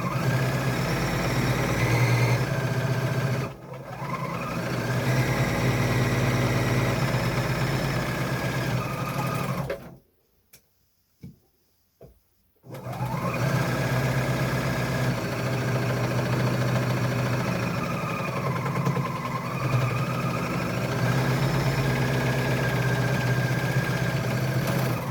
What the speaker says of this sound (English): we're going to seam neaten all of those edges, from including the overhang all the way on both sides, all the way around. So a zigzag or an overlock.